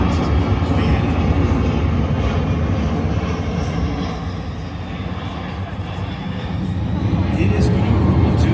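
A C-17 transport jet climbs out during a flying demonstration at the MCAS Miramar airshow, its heavy engines a steady, loud roar that swells and eases as the aircraft passes, with an announcer talking over it.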